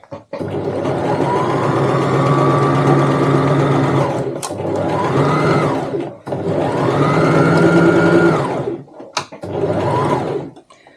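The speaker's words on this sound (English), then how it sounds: "You can sew it with 1/4 of an inch seam allowance, is fine." Domestic sewing machine stitching a pocket lining for a tote bag at a quarter-inch seam, running in three steady close bursts with short pauses and a brief back stitch between them.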